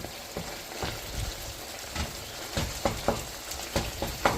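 Taco meat frying in a pan as its fat renders out, a steady crackling sizzle with scattered louder pops, close and unbroken.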